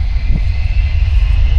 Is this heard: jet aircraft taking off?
yes